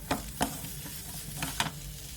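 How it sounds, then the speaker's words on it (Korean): Potatoes with ham, onion and carrot stir-fried in a pan, a soft sizzle underneath a few distinct scraping stirs of the spatula against the pan, close and moderately loud, no talking. "알맞게 익었으면 햄, 양파, 당근 넣고 가볍게 한 번 더 볶아준 다음"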